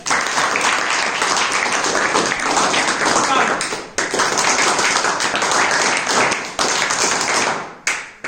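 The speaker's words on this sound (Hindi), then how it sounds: "उनके लिए ताली बजा दीजिए जोरदार सर" Audience at a Republic Day and Basant Panchami gathering claps loudly in a dense, sustained burst of applause that fills nearly the whole stretch, dipping briefly a few times before tailing off.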